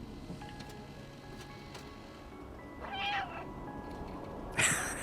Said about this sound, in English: Meow at the camera?